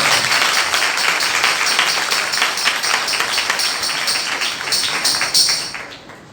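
An audience at an Urdu church sermon claps steadily and densely for several seconds, a broad wash of applause that thins out and fades at the end.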